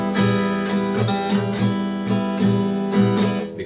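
Acoustic guitar chord strummed repeatedly in a steady rhythm with two strings not pressed properly, so they sound dead or muted among the ringing strings; close and clear, with no talking.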